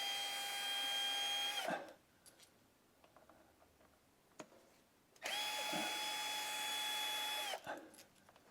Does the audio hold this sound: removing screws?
yes